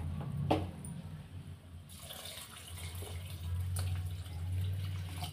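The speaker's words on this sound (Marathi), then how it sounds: "गरम पाणी मी ॲड करून घेणार आहे लगेच." Hot water is poured into a pot of rice for Khandeshi khichdi in a steady, gurgling stream, with a low hum beneath and a couple of brief clinks.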